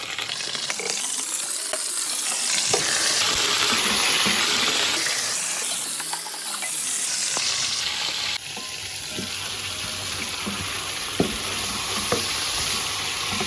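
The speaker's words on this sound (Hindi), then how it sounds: "अब इसमें डालूंगी मैं चिकन, क्योंकि चिकन का कलर जो हमें वो ब्राउन करना है।" Chicken pieces sizzle and fry in a pot with browned onions, a loud continuous crackle and hiss that rises and falls as the food is stirred, with occasional clinks.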